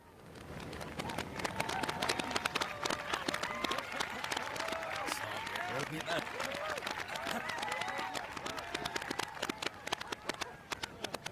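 Applause from a crowd in a video game cutscene where a man smokes: dense, continuous clapping at moderate distance, with scattered coo-like tones and a voice faintly underneath.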